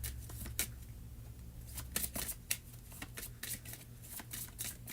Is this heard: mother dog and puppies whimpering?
no